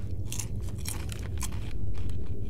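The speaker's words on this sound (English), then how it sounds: "Why are the beans crunchy?" Crunchy beans eaten in the Fahrenheit: Indigo Prophecy video game, a series of close, crisp bites and chewing crunches coming in irregular bursts, with no talk over them.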